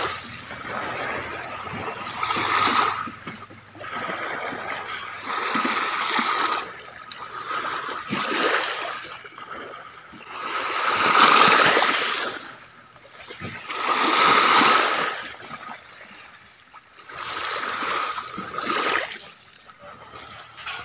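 Waves wash in and retreat on a seashore in a slow uneven rhythm, each swell rising to a splashy rush and then fading, heard close and fairly loud with no talking.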